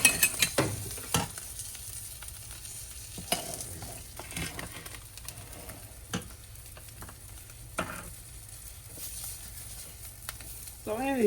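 A loaded omelette sizzles in a hot pan right after the flip, a continuous close frying hiss punctuated by sharp knocks and clatters of the pan and utensil.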